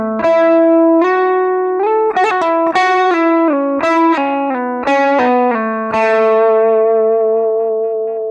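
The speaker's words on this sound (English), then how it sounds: "So the whole thing slowly sounds like this." A distorted electric guitar plays a solo, with sustained notes joined by hammer-ons and slides, loud and up close with effects and no talking.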